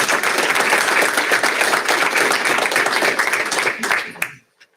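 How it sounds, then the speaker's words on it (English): Audience applause at a school district board meeting, a dense, steady burst of clapping from a room of people that holds for about four seconds, then quickly dies away into silence. "We could have a round of applause for all of them."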